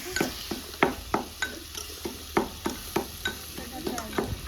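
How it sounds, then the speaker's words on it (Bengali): Young jackfruit pieces frying in a pan under a steady sizzle, with a rhythmic run of sharp scraping stirs about every third of a second, close and clear, no talking. "এইভাবে ইঁচড়গুলো আমি ভেজে নেব।"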